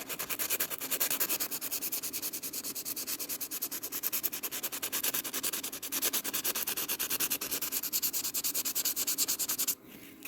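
A fishing jig lure sanded by hand, with a fast, even back-and-forth rasp that runs nonstop and close for about ten seconds before stopping abruptly, with no talking.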